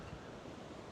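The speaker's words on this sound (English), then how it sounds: "You can hear the surf in the background." Faint, steady surf rolls along a seafront at dawn, a soft broadband wash in the background with no voices.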